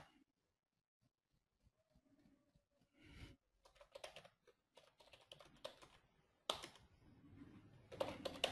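Quiet typing on a computer keyboard while writing code, with scattered single key taps at first, then irregular bursts of clicks building up, close and alone with no talk.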